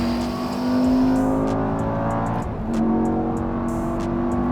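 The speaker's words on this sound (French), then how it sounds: "Écoute-moi le bruit de ce gamos." A Lamborghini Gallardo Superleggera's engine revs loudly close by, holding a strong droning tone, dipping briefly midway and then surging again, with no talking over it.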